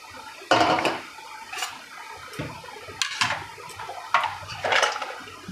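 Vermicelli for a namkeen snack is stirred quickly in a frying pan, giving irregular clinks and scrapes of the utensil against the pan over a soft frying hiss.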